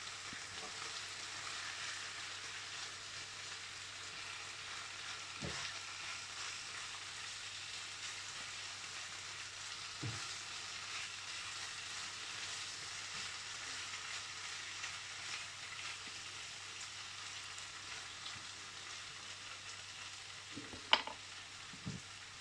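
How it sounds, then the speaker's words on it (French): Potatoes and onions fry in a pan with a steady, even sizzle, broken by a few sharp clinks from stirring. No one speaks. "une fois que vos pommes de terre sont à mi-cuisson, vous goûtez, si elles sont un peu tendres, vous commencez à mettre les oignons"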